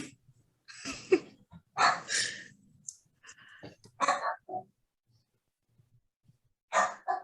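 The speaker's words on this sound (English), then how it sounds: "My dog." A pet dog barks several times at close range in a home during an online session, its short bursts breaking the quiet with brief breathing and faint sounds between.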